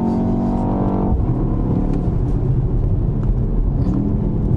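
A BMW X2 accelerating hard, its engine tone climbing before a sharp break at an upshift, then a deep rumbling drone as it pulls on through the next gear, loud and close, heard from inside the car.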